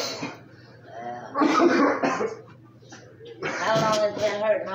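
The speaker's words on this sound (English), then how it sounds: "my chest hurts. I keep coughing" Two bursts of harsh coughing break up the clip, mixed with throaty, chuckle-like sounds, close to the listener in a quiet room.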